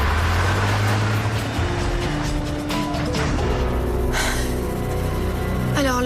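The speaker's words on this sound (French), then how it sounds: "Allez, démarre, rigolo. Ils s'en vont à bord d'une voiture rouge." A red car pulls off, its engine humming low and steady close by, with music or other sounds layered over it and a brief squeal near the end.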